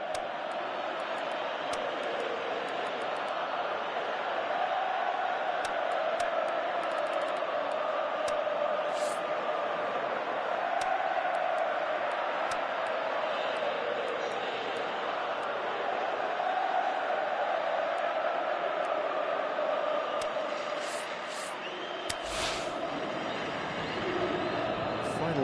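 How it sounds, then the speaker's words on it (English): Stadium crowd in the football video game PES 2018, a steady, dense roar of voices and chanting that holds throughout, with commentators talking over it. "you can feel and hear how the crowd are reacting to all of this"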